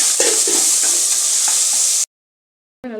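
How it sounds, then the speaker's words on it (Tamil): Tomatoes sauté with chili powder and turmeric in a pan, giving a steady loud close sizzle with soft stirring scrapes for about two seconds before it cuts to silence and a brief voice. "இப்போ இதில் தக்காளியும் சேர்த்து இதிலே நல்லா வதக்கிடுவோம்."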